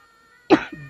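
A single sharp cough in a Telugu comedy film scene bursts out of near silence, followed by a short, softer throaty trailing sound.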